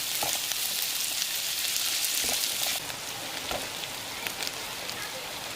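Chopped garlic and ginger sizzle steadily in hot oil in a pan for a fish-head moong dal, with a few faint stirring knocks; the hiss drops slightly partway through, and no one speaks.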